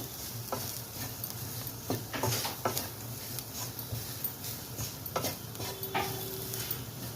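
Bitter gourd tossed with gram flour and spices in a pan, a soft steady sizzle of dry roasting under repeated scraping and stirring strokes of a spoon, close and fairly quiet, with no talk.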